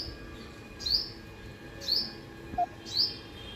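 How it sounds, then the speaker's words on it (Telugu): Birds sing in the morning, with three sharp chirps spaced about a second apart and one brief lower note, faint and fairly distant against a quiet background. "చాలా పక్షులు ఉన్నాయి."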